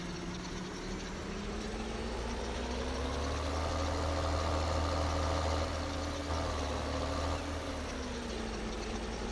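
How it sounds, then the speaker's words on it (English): A tractor engine in Farming Simulator 13 drones steadily at low pitch throughout, a continuous idling rumble that swells slightly in the middle and then settles, with no voices over it. "Come on, tractor, get going."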